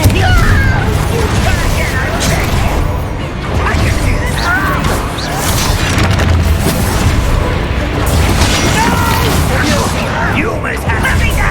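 Confringo blasting spell explosions in Hogwarts Legacy combat, repeated heavy booms and crashes amid continuous battle noise, with people talking over the action throughout.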